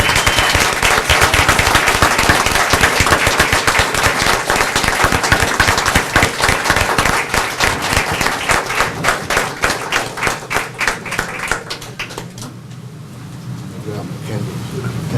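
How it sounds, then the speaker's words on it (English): A round of applause at a City of Brawley council meeting, loud dense clapping that gradually thins into distinct individual claps before fading out near the end. "another big round of applause for Mr."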